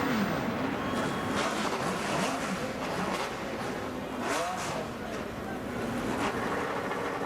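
Race car engines fire up and rev together at Indianapolis Motor Speedway on Carb Day before the Freedom 100, a dense, steady mechanical roar heard from a distance with crowd and announcer noise mixed in.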